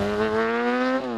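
A Suzuki GSX-R 1000 sport motorcycle on a race track, its engine holding a loud, steady high-revving tone close by that dips slightly near the end.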